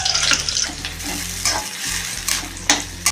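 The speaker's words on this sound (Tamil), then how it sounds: "எண்ணெய் ஒரு 4 கரண்டி விட்டு எண்ணெய் காஞ்சது வெங்காயம்லாம் போட்டுக்கலாம்" Sliced onions fry in hot oil for a village-style chicken gravy, with a loud, close hiss and crackle under repeated stirring and spoon clinks.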